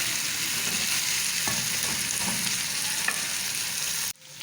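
Potato and fenugreek salan frying in a pan, a steady close sizzle with a few soft scrapes of stirring, cut off abruptly near the end.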